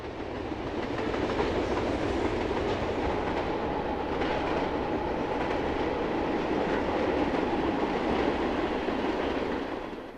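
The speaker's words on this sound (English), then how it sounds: "An NS eastbound steel train threads its way through the cut" A Norfolk Southern eastbound steel freight train rolls through a rail cut between Huffman Dam and the Wright Brothers Memorial near Dayton, with a steady, loud rumble and rhythmic wheel clatter that holds for the whole stretch.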